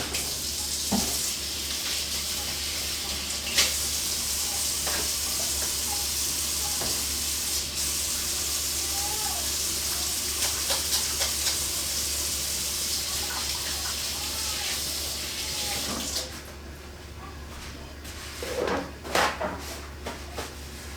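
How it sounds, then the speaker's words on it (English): A kitchen tap runs steadily while hands are rinsed, a continuous hiss of flowing water with occasional clatters, thinning out near the end. "I'm going to give my hands a quick rinse"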